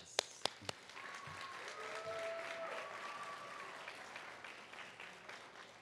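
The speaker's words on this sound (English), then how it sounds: "I think they also deserve a big round of applause." Graduation audience applause for the faculty, soft distant clapping at a low level, with a few sharp near taps at the start and faint voices mixed in.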